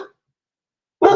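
A single loud, close dog bark breaks a second of silence, following a brief trailing sound at the very start.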